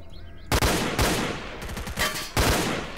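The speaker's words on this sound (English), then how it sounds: "There is a firefight going on here." Gunfire from a firefight in S.T.A.L.K.E.R. Clear Sky rings out as close, loud shots and short bursts, about five sharp cracks spaced irregularly over a few seconds with no talking.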